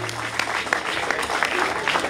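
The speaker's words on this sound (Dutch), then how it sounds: "Ja, applaus is op zijn plek." Audience applause at a primary school's centenary book presentation, a brief burst of moderate clapping from a gathered crowd with a faint voice underneath.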